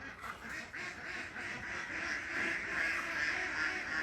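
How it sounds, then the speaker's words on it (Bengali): Many ducks at a duck farm give a steady, overlapping chorus of quacks at moderate distance, filling the whole stretch without any talking. "আর এখানে আবার হাঁস খামার প্রচুর হাঁস আছে এখানে"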